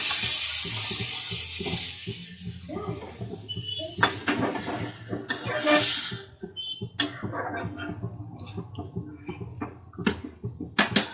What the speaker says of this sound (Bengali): এবার একটু আমি জল দিয়ে দেবো পরিমাণ মতন